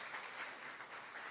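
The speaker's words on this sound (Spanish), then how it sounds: "Denle ese aplauso al Señor" Congregation applause at a church service in Ciudad Madero, Mexico, a soft, even crackle of many people clapping, fairly distant and quiet, with no voices over it.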